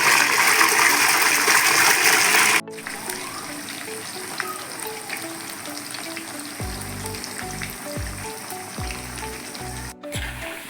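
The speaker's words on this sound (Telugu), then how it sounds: "చికెన్ వేసి ఫ్రై చేసుకుందాం." Chicken pieces for a spicy boneless pickle fry in well-heated oil, giving a loud, dense sizzle that is harshest at first and then settles into a steady crackle. Low thumps and clatter from the pan sound underneath.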